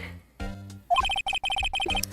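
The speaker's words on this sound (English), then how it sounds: "That was my alarm." A phone alarm ringing, a rapid series of bright electronic beeping tones after a few soft knocks, clear and moderately loud with no talk.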